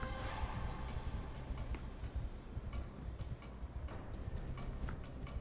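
Horse hooves clip-clop in a steady, dense rhythm in the video game Darksiders Genesis, close and continuous throughout over a busy game soundscape, with no voices.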